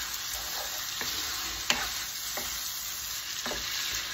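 Carbonara pasta being stirred in a pan, with soft sizzling under scattered scrapes and clinks of the utensil against the pan, close and fairly quiet, no talking.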